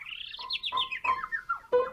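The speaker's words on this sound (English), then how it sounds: "All around her flitted tiny, brightly colored birds, chirping and singing." Tiny, brightly colored birds chirp and sing in a quick run of bright, close tweets and warbled notes with short gaps, alone and fairly clear.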